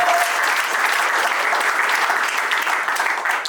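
Wedding guests applaud at a civil marriage ceremony in a town hall, a steady, dense wash of clapping from a room full of people that holds evenly throughout and tapers slightly at the end.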